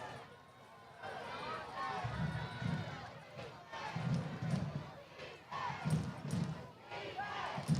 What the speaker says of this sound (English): You hear the McCollum crowd getting into it.